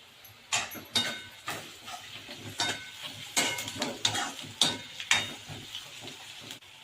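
Whole spices sizzle in hot oil in a pan for dam biryani while a spoon stirs and scrapes, producing repeated clattering strokes over a steady frying hiss, close and fairly loud.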